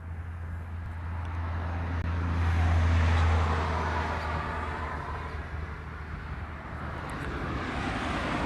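An American airliner descends toward Honolulu airport at night, its engine roar a broad steady rumble swelling to a peak near the middle and easing off, with a low tonal hum beneath and distant traffic-like noise throughout.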